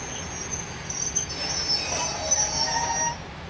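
A Ramsgate to London Charing Cross service train arriving in a train simulator, a low rumbling roll with high, thin wheel squeals drawn out over it, fairly loud and close.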